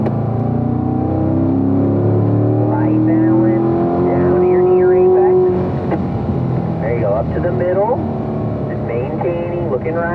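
A race car engine pulls hard in third gear on a circuit. It gives a loud, continuous, close drone whose pitch climbs steadily, while a driving coach talks over it throughout.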